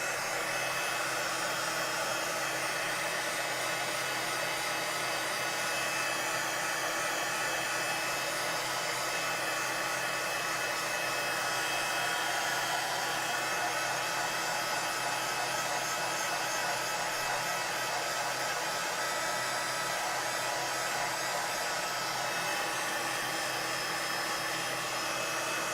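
A heat tool blows steadily over a mixed media art journal page, a close, loud, unbroken whooshing hum like a hair dryer that holds for nearly half a minute with no talking.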